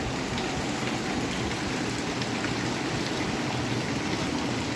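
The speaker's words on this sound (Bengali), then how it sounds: "বৃষ্টির শব্দটা টিনের ধরে।" Rain drums on a tin roof in a loud, dense, unbroken patter, steady and close with no voices over it.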